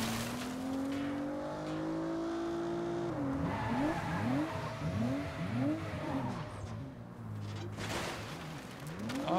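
Car drifting in the video game Saints Row, an engine droning then revving up and down in repeated surges as tires squeal through the slide, loud and close.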